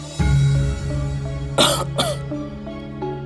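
A person coughs and clears their throat a few times, close and fairly loud, with a steady low hum underneath.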